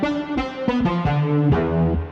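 Retro 1980s synth bass made in FL Studio, a short run of punchy plucked notes stepping through a bass phrase, loud and alone.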